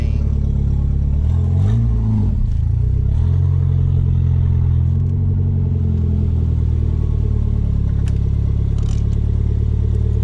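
A Conquest engine runs loud and close, rough and rumbling with a rev that rises and settles early on, then holds a steady throbbing idle with some mechanical clatter.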